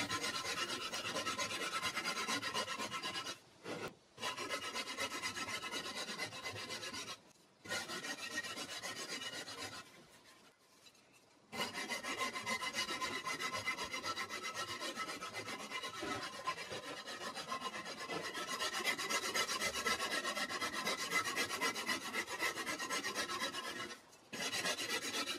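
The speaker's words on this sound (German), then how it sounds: "Im nächsten Schritt trage ich die Kanten ab und runde die Form an Kopf und Nacken." A rasp scraping the edges of an aerated concrete (Ytong) stone penguin sculpture, a continuous close, loud rough grating that pauses briefly a few times before resuming steadily.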